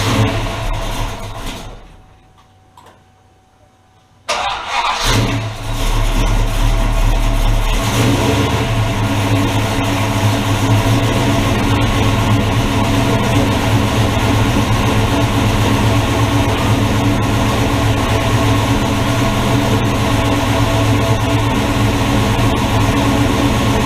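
The engine of a freshly revived 1967 Dodge Dart, smoking as oil burns off the headers, roars loud and close after a brief drop near the start, then holds a dense, rumbling run with a raised idle and swelling revs.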